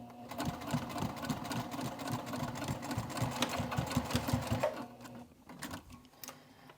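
A sewing machine runs steadily, stitching and back-stitching a dual-zip crossbody bag with a fast, even mechanical chatter. It slows and stops near the end, leaving brief quieter handling noises.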